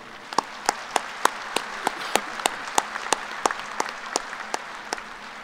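An audience at a Kansas State fall College of Agriculture commencement claps to welcome the platform party, a light and fairly sparse spread of hand claps with distinct individual slaps rather than a roaring ovation.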